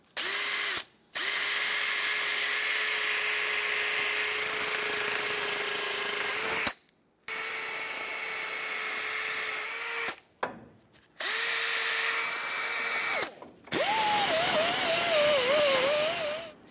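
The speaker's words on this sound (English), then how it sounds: "I'm just going to take a wire wheel on a drill and just clean up around it" A power drill with a wire wheel runs in long, loud bursts with a gritty, hissing scrape as it cleans rust from metal on a Dodge Ram 2500 axle, stopping briefly between runs.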